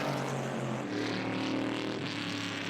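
Vintage race cars in an SVRA event at Mid-Ohio run side by side down the back straight, a dense, loud blend of engine roar with overlapping tones that swell and fade as they pass.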